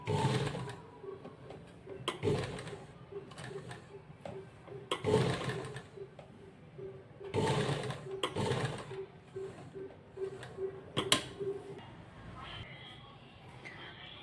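A sewing machine stitches a fabric neckline with a steady, rapid mechanical hum for most of the stretch, running beneath intermittent talking and occasional handling thumps.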